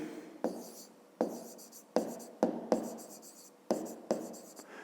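Pen strokes scratch on paper while someone writes a geometry solution by hand, a series of close, distinct scribbling bursts separated by short pauses.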